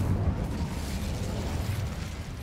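Incendio fire spell cast in Hogwarts Legacy, a sustained roaring whoosh of flame with a low rumble, steady and loud for a couple of seconds, with no talking.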